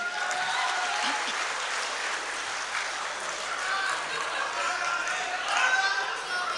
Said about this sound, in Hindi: एक बार ज़ोरदार तालियां बजा के इजाज़त दें।